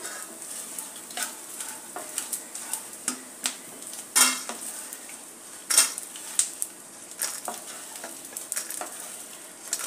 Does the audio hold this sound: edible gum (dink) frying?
yes